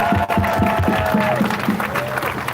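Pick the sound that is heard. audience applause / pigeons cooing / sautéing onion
audience applause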